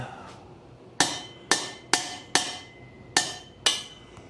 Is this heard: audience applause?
no